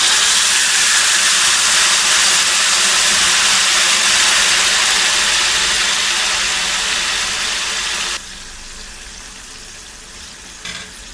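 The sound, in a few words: tamarind juice poured into hot pan, sizzling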